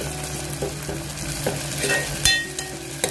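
Chopped tomato frying in a pan for a Marathi gavarichi bhaji being pressed with a spoon, a close, steady sizzle with a few soft scraping taps and one sharper knock.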